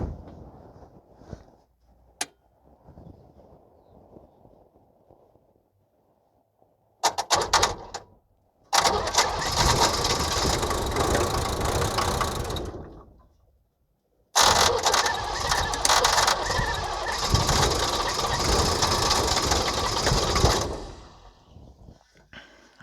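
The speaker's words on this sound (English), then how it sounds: "I want to see if I can crank it and fire the glow plugs at the same time" Diesel engine of a 1978 International Scout II cranking over while the glow plugs are energized, two long loud bursts of churning starter noise separated by a pause, with quieter clicks and handling sounds before them.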